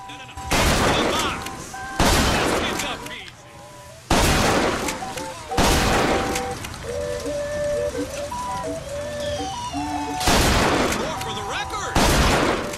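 A shotgun styled as an air cannon fires in Bioshock Infinite: about six loud, booming blasts land at irregular intervals over a few seconds, with brief pinging game tones ringing between the shots.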